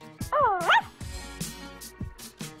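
A cartoonish puppy in the Barbie and Her Sisters: Puppy Rescue video game gives a series of high, wavering yips and whimpering barks, close and clear, amid game sounds and brief chatter.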